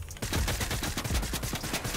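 Rapid gunfire in a video game, a dense burst of close, punchy shots fired in quick rhythm for the whole two seconds.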